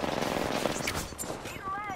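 Gunfire from an Apex Legends ranked match, dense bursts of rapid shots crackling steadily through the full two seconds amid game effects, with a voice talking over it.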